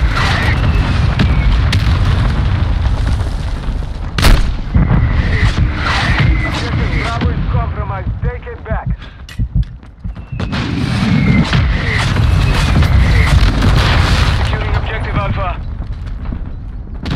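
A called-in artillery strike in Call of Duty MWII lands as heavy booms amid dense, loud battle noise, with gunfire and game voices layered throughout.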